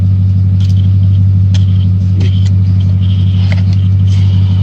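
Failing cooling fan motor on a 2008 Ford F-150 with a 5.4L V8, a loud, steady low hum with faint clicks and rattles on top, running close up without any talk.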